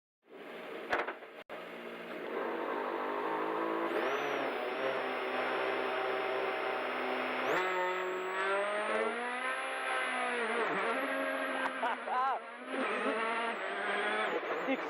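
A rally car in the EA Sports WRC video game revving hard and accelerating, its engine note climbing and shifting through gears, loud and close, with rising whines and brief dips, after a short sharp knock at the start.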